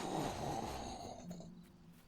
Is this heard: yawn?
yes